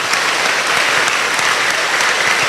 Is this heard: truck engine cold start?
no